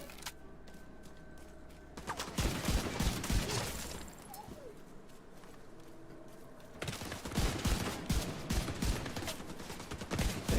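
In The Division 2, bursts of rapid automatic gunfire crackle from a distance. There are two dense volleys, one early and one later, with quieter gaps between them.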